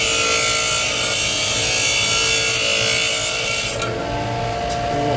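A bench grinder wheel grinds a steel lathe threading tool, a loud continuous high-pitched whine and rasp that eases slightly as the tool is lifted near the end.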